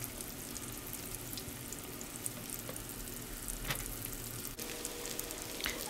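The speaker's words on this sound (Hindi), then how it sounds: "चिकन ब्रेस्ट बोनलेस की जो मैरिनेट करके इसको कोट करके रखा था, इसको फ्राई कर रहे हैं।" Marinated, coated boneless chicken breast fries on medium heat, a soft, steady sizzle with small pops and crackles throughout, fairly faint and uninterrupted.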